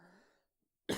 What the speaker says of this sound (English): And that was I coughed.